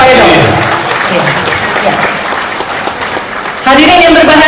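Loud applause from a seated audience at an Indonesian public meeting with a presidential candidate, a dense burst of clapping that fills several seconds, with a voice briefly heard over it.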